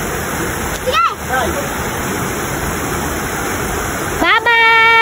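A river flows with a steady, loud rushing wash of water throughout, broken briefly by a short shout and a few chirpy vocal sounds near the start and end.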